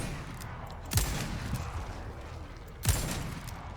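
Two loud, booming shots from a heavy gun in a video game, spaced about two seconds apart, each with a sharp crack and a short decaying tail over quiet background sound.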